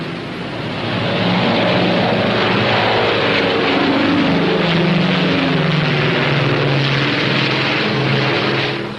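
Northrop P-61A Black Widow twin piston engines roar steadily at takeoff power, a loud, dense and continuous drone that holds for several seconds before easing slightly.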